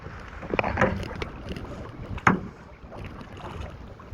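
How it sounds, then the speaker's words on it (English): Canoe paddled on a lake in Voyageurs National Park, soft paddle strokes and water swishes with a splash near the middle, under steady wind and open-air noise. "we're just paddling away"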